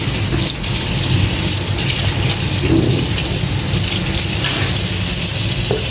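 Water runs steadily from a tap while olives soak in a mix of water and vinegar, a continuous rushing flow that stays loud and even throughout, with no talk over it.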